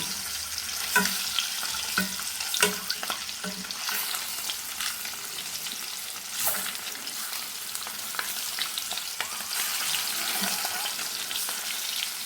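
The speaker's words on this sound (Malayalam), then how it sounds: "നമുക്ക് ഇതെല്ലാം മുട്ട ഓരോന്നായിട്ട് പൊരിച്ചെടുക്കാം" Eggs fry in hot oil in a pan with a continuous crackling sizzle, broken by scattered clicks and scrapes of stirring, close and fairly quiet.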